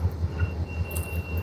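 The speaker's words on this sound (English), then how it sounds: "Another train, folks. Another train." A train engine rumbles steadily nearby beside a freshwater fishing spot, with a rhythmic low pulsing throb and a thin high whine running through, no talk.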